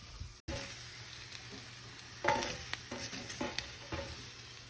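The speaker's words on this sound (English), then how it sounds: "we're going to let this char over the comal until all the sides are nice and charred" Tomatillos and peppers charring on a hot comal give a quiet, steady sizzle, with a brief dropout early and scattered crackles and shuffles from the vegetables being moved.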